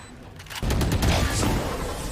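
Rapid bursts of Vandal rifle gunfire in a competitive shooter match erupt loudly after a brief quiet start, sustained crackling shots with a dense, continuous texture.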